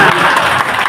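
Applause from an audience at a district administration's Holi gathering: a short, dense burst of clapping with a voice mixed in.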